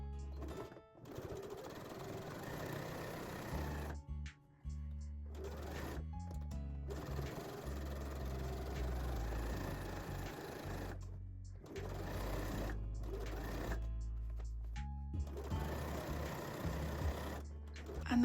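A sewing machine runs in long steady whirring bursts while stitching the bottom seam of a corset, stopping briefly several times between runs, close and alone without talk.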